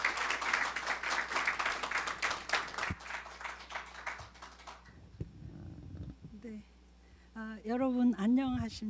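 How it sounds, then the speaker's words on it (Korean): Audience applause at an energy forum welcoming the gas corporation's president to the podium: several seconds of dense clapping that thins out and stops, followed by a voice beginning to speak. "사장님을 큰 박수로 환영해 주시길 바랍니다"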